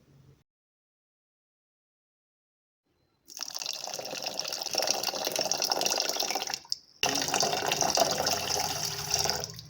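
Water poured from a container into a bowl of gulab jamun mix with cardamom powder, a steady close splashing stream starting after a few seconds of silence, with a brief break before the pour resumes.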